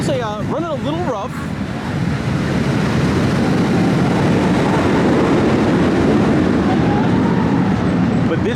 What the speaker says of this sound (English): can see the train coming in now.